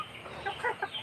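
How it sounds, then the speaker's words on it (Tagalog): Chickens squabbling over feed, a few short excited clucks and squawks rising mid-clip over a steady low background, fairly close and moderately loud. "Nagpakain ako ng manok. Ayan, oh, sobrang dami, nag-aagawan pa."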